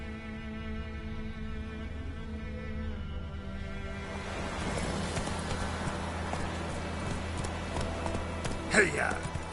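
Hooves of Roach, a horse in the Witcher 3 video game, clip-clop in a steady galloping rhythm that grows busier and louder partway through, with game music and ambience underneath.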